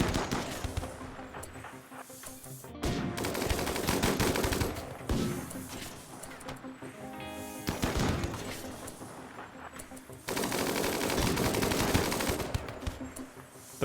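A RimWorld battle is full of rapid gunfire: long, dense bursts of automatic fire and shots keep coming in loud waves with brief lulls, and no one talks.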